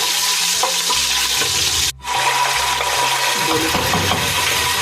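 Dry fruits with cardamom and cloves are stirred in a hot pan, a close, loud, continuous frying sizzle with scraping and light clinks, briefly cutting out for a moment before resuming.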